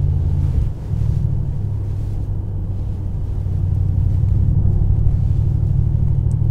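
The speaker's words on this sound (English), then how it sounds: "driving the all new facelift Mercedes E63 AMG" A 2021 facelift Mercedes-AMG E63 S sedan cruises along, its engine a constant low rumble heard from inside the cabin, steady and fairly muted with some wind noise and no talking.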